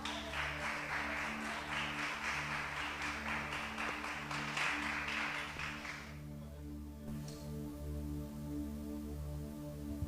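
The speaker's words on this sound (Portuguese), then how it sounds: "Vamos receber este homem aplaudindo ao Senhor bem forte." Steady church congregation applause fills the first six seconds, dense and even, then fades out, leaving a sustained low hum with faint residual noise.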